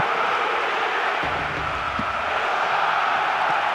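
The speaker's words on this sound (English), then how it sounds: "The noise they're making is terrific." A stadium crowd in the PES 2009 football video game keeps up a steady, dense roar of massed voices, loud and even throughout with no breaks.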